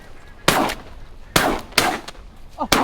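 Shotgun blasts while hunting barnacle geese in Sweden: four loud, sharp reports spaced irregularly over a few seconds, each with a short outdoor decay, and a brief goose honk just before the last shot.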